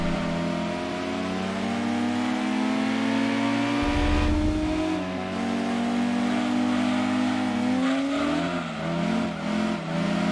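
A very large car's engine revving hard in Gran Turismo 2 on a kart track, a loud continuous drone that climbs in pitch, dips at gear changes and rises again, heard close with no talk.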